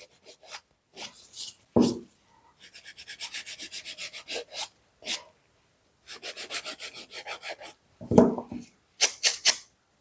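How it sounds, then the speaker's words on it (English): A nail file shapes a glitter inlay nail in quick bursts of scratchy rasping strokes, close and fairly quiet, with short pauses between runs of rhythmic filing. "filing my shape one more time to give it that crisp end result"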